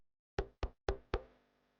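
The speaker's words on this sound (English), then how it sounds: "someone knocked on the door" Four crisp knocks on a door land in a quick, slightly uneven rhythm, close and distinct against silence, with the last one ringing out briefly.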